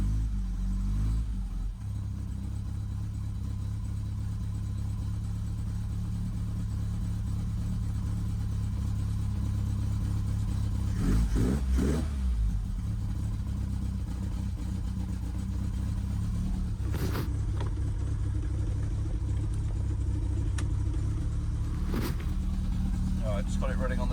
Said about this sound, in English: Just got it running on the choke.